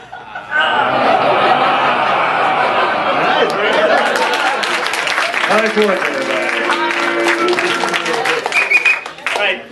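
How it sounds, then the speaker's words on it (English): A comedy improv show audience claps in a loud, scattered burst of applause mixed with laughter and chatter, building over the second half and then trailing off. "I noticed a lot of you were clapping just now"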